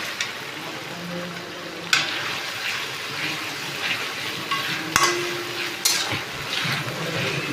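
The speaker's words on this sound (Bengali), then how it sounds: "ভালো করে নেড়ে নেবো, হালকা স্টিম রাখতে হবে।" Chicken leg pieces with ginger and garlic are stirred in a hot pan, a steady low sizzle with the rough scrape of a spatula and a few sharp knocks against the pan.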